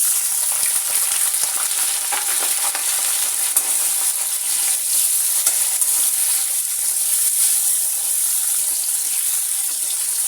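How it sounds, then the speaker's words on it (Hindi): Bitter gourd (karela) fries in hot oil, giving a dense, continuous bright sizzle and crackle, close and steady throughout with no talking. "ऑयल हमारा गर्म हो गया है। सबसे पहले मैं अब करूँगी करेले फ्राई।"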